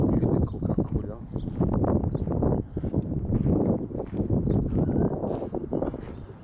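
Wind buffets the microphone in loud, rumbling gusts throughout, with a voice talking underneath.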